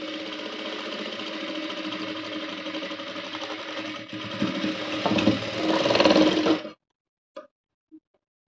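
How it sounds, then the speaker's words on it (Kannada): An electric sewing machine stitches a blouse seam with a fast, steady whirring run of about six seconds that speeds up slightly before cutting off. A few light clicks follow in the quiet. "ಇಲ್ಲಿ ಒಂದು 1/4 ಇಂಚಿಗೆ ಸ್ಟಿಚ್ನ ಹಾಕೊಳ್ತಾ ಇದ್ದೀನಿ ನಾನು."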